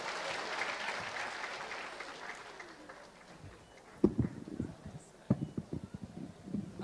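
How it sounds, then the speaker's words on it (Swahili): Crowd applause welcoming a minister at an outdoor public gathering in Meru, Kenya, a broad wash of clapping that fades over the first few seconds, followed by scattered louder claps and a voice speaking. "Makofi kwake."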